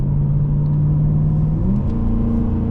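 Steady, deep rumble from a 2010 Volvo S80 V8 AWD sedan, heard from inside while driving, with a loud, continuous engine drone whose pitch shifts slightly as it runs.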